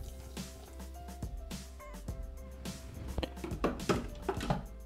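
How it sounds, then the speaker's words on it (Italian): Lemon juice pours and drips into a Thermomix bowl, making soft, close liquid splashes with a few light clinks, without talk. "Adesso aggiungiamo il succo di limone."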